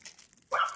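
A dog gives one short sharp bark from nearby at a squirrel up in a tree, following a brief quiet moment.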